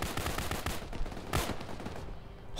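Rapid bursts of gunfire from the ARMA video game in a compound defence fight, loud, dense crackling volleys repeating throughout, with no talking over them.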